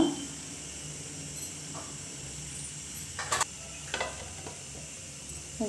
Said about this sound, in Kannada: ಸಣ್ಣದಾಗಿ ಗ್ಯಾಸಲ್ಲಿ ಕುದಿಬೇಕು